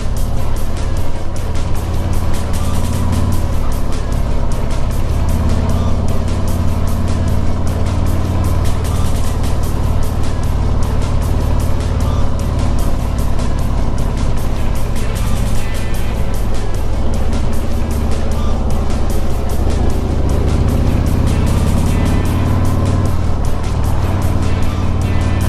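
A car drives the winding Tail of the Dragon mountain road, its engine droning loud and close with shifting pitch as it accelerates and eases through the bends, and wind noise continues throughout.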